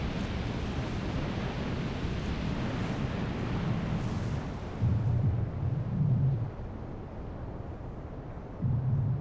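Deep, sustained rumbling roar of a volcanic eruption where magma meets water, broadband and loud throughout, with heavier low booming surges swelling near the middle and again at the end.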